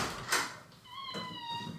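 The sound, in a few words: pet cat Gnocchi squeaking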